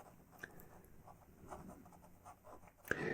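Pastel stick scraping across textured pastel paper while a window is drawn, a soft continuous gritty rubbing with light strokes and small taps, quiet and close, ending in a brief louder scuff.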